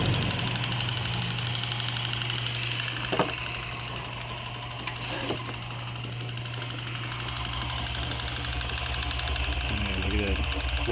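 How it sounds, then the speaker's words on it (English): Motor-driven pump spraying white termite poison onto the ground outdoors, a steady droning hum with a constant low tone running throughout, while people talk over it. "So this is the pump that they use to pump the poison."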